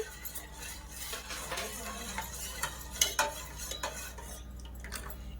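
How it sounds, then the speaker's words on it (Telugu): Custard mix stirred into just-boiled milk in a pot for a fruit custard salad, with a steady scraping swirl of spoon against metal, a few sharp clinks of utensil on pan near the end, and a faint simmering hiss underneath. "ఇందులోకి మనం కలుపుకున్నాం కదా కస్టర్డ్, ఇది వేసేద్దాం. వేసేసి బాగా కలపండి."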